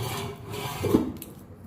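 A ripe senthuram banana, already peeled, is mashed by hand, giving a faint, soft squishing and rubbing with one slightly firmer press midway through the short stretch.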